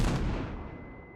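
A single loud gunshot in a video game, a sharp close blast followed by a fading ringing tail, no talking.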